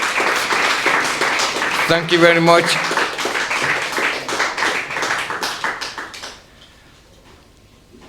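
Audience at a talk on the future of Palestine breaks into a short burst of clapping that fades out over several seconds, while a speaker talks over it briefly.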